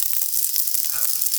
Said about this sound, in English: next you get the frying pan good and hot and you put the tofu on